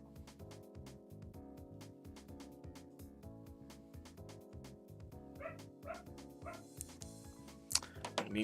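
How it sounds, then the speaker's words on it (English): A dog barks and yips excitedly indoors, sharp repeated barks under steady electronic game music, growing more frantic toward the end. "the dog is going wild"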